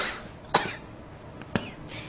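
Two short sharp coughs about a second apart, fairly close, over a quiet background.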